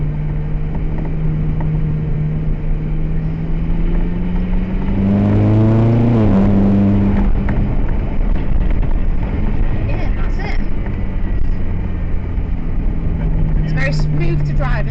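A red Ferrari California's engine drones steadily, then revs up in a rising swell around the middle before settling, heard from inside the car with people talking throughout.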